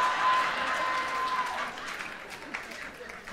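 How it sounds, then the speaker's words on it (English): A comedy show crowd claps in a burst that starts full and gradually thins, with voices and talk mixed in underneath as the applause fades. "See y'all clapping at that shit?"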